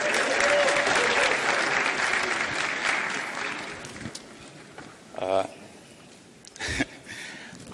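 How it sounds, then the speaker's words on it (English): Audience applause at a new venture competition as a startup presenter is introduced, loud sustained clapping that thins out after about four seconds, followed by scattered isolated claps and brief louder bursts. "Let's give him a round of applause."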